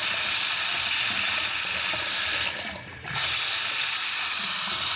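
A household faucet running, a steady broadband hiss of flowing water that briefly dips as if interrupted around the middle, then resumes at full strength.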